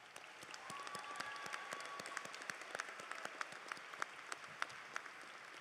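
Audience applause for magna cum laude graduates standing at a 2025 high school commencement ceremony, a steady wash of clapping with sharp individual claps standing out, moderately distant and sustained throughout.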